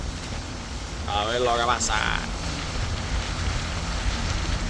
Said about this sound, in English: It's blowing really hard